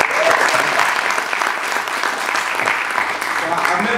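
Audience applause for Mr. Daugherty at a college chapel gathering: steady, dense clapping from a crowd, loud and continuous throughout, with some voices mixed in.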